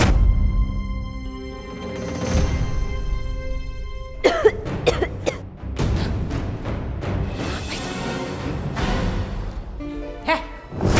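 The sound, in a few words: coughing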